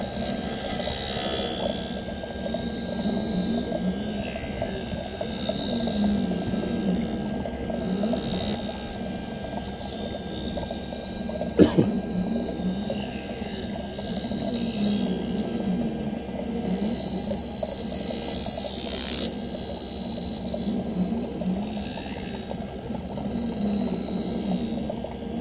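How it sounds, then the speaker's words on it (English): An optical lens edger machine grinds a bevel onto a lens for Ray-Ban bifocals, giving a steady whirring, watery grinding hum that runs continuously at close range, with one brief sharp click partway through. "Now it's going to move over and put the bevel onto the lens."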